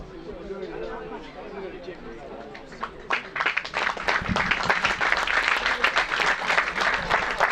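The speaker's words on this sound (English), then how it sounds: "So the applause you hear is for the number 13 for Seba" Crowd applause breaks out at a schoolboy rugby match between Millfield and Sedbergh, rising from low chatter into sustained clapping and cheering that fills the second half.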